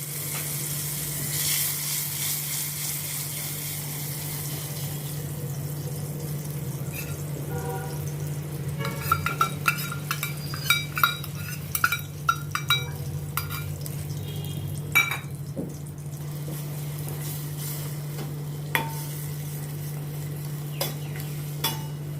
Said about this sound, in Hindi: अभी ये ऑयल गरम हो गया। अभी इसमें मैं ये मसाला डाल के इसको पहले मैं भूनती हूँ